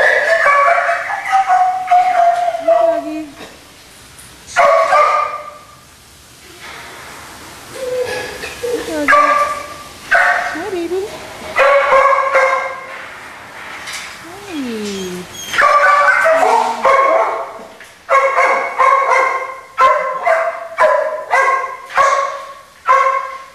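Several dogs barking and yipping at an animal shelter, loud overlapping barks and whines in irregular bursts, close by, with people talking among them.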